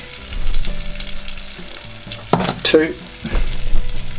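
Butter and flour sizzle in a pan while a roux is made, a moderate frying crackle with spoon clatter and stirring, as a voice briefly counts over it.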